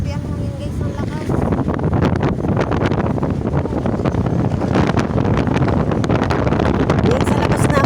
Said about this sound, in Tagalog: Grabe ang hangin guys, ang lakas.